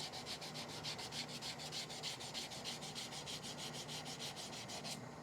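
Sandpaper rubbing steadily over a cherry wood yarn bowl, a continuous close scratchy hiss pulsing in quick even strokes throughout, with no talking.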